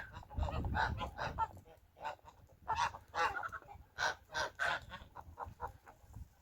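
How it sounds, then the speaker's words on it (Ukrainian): Geese, including a young gander, honk repeatedly in loud, nasal bursts with some clucking mixed in, close by and fairly continuous, with a few short pauses between calls. "Ось іде молодий гусак."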